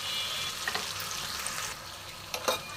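Potatoes for Kashmiri aloo dum fry with sour yogurt and Kashmiri chili powder, a steady soft sizzle broken by a few light stirring taps and scrapes, close up with no voices.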